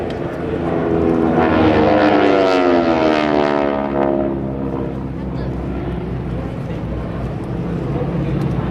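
GEICO Skytypers propeller airplanes fly past at a military open house air show, a loud droning engine roar that swells with a clear Doppler pitch shift and then fades, with an announcer talking over it.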